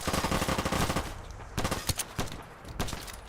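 Suppressed sniper rifle fire in modded Fallout 4, a few sharp muffled cracks spaced apart after a stretch of dense rattling noise, moderately quiet overall.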